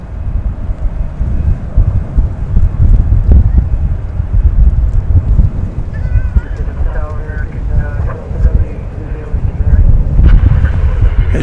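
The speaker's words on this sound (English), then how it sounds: "As you can hear, it's a bit windy tonight." Steady wind roars and buffets across the microphone at DFW Airport at night, a continuous low rumble with gusts throughout and faint higher mechanical tones in the middle.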